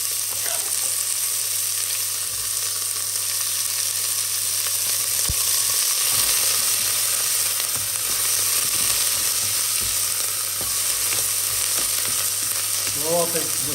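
Onion fries in melted lard in a pan, a continuous loud sizzle that holds steady throughout with a few faint clinks, and no speech.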